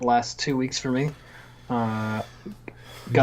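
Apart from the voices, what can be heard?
No distinct noise like a dog, phone or traffic.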